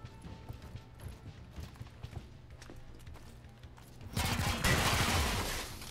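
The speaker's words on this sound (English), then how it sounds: "Taking fire, but it is poorly aimed." Gunfire bursts in XCOM Chimera Squad under steady game background sound, building to a loud, dense volley in the final two seconds.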